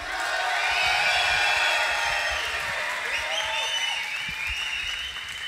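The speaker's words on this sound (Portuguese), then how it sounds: "façam barulho para a Beat!" A crowd at a beatbox showcase applauds loudly and steadily, with whistles and cheers rising over the continuous clapping.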